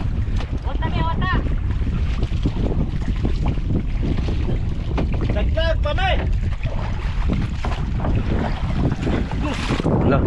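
Strong wind roars steadily into the microphone on open sea water, with voices calling out over the gusts.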